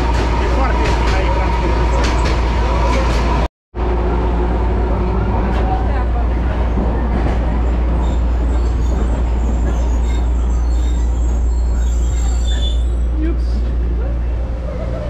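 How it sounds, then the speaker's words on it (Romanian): Steady rumble of a tram in motion heard from inside the car, with wheel and rail noise, brief squeals, and a short cut near the start; a voice talks over the ride. "Frumoasă călătoria cu tramvaiul, nu?"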